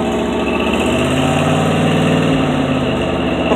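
A 1971 Ford Cobra Torino engine runs loud and close, a dense, steady idle-like rumble that continues without a break and is heard alone.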